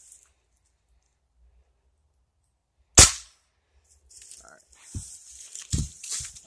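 A Ruger Impact Max .22 pellet rifle fires once, a sharp, close crack after a quiet stretch, followed by a few soft clicks and rustling handling sounds.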